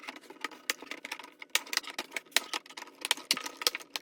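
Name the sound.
plastic advent calendar pieces clicking into place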